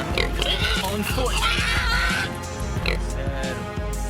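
Wild boars in Texas grunt and squeal as a herd moves about, with repeated close, rough oinking bursts over a low rumble while someone talks over them.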